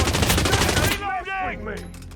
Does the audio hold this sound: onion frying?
no